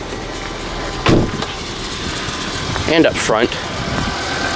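A cold-started 2007 Volkswagen Rabbit 2.5 liter five-cylinder engine idles with a steady low hum, while a person talks over it.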